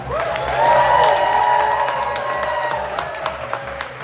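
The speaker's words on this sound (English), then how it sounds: "can we get another big round of applause for all the artists tonight?" Crowd at a battle event in Ottawa applauding and cheering for the performing artists, a steady wash of clapping with whoops over a tonal musical background, fairly close and sustained.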